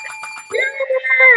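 A bicycle bell rings with bright sustained tones that swell louder toward the end, following a stretch of voices talking nearby.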